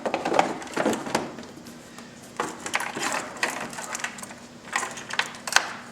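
Plastic fairing on a Victory Cross Country motorcycle being fitted back into place, heard as a series of close clicks, snaps and knocks in uneven bursts with short pauses between them.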